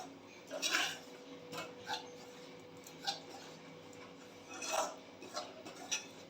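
Ragi (finger millet) flour stirred and roasted in a pan over low heat, soft intermittent scraping and rubbing of a spoon against the pan, with occasional light clinks, in a quiet kitchen.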